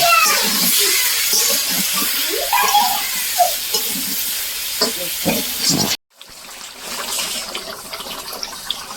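Meat and potatoes sauté together in a hot pan with a loud, continuous sizzle and the occasional scrape of stirring. The sound cuts off abruptly partway through and resumes as a quieter sizzle.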